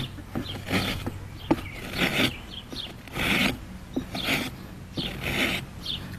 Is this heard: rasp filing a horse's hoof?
yes